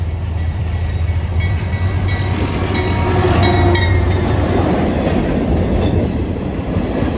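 CSX rock train L743 rolls past Lakeland Station, a loud, continuous rumble of heavy wagons with rhythmic wheel clatter, metallic clinks and faint squeal over the whole stretch.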